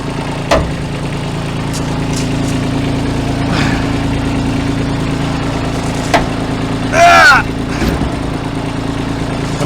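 A parked tractor's engine idling, a steady low rumble running throughout, with brief voices and a few knocks over it.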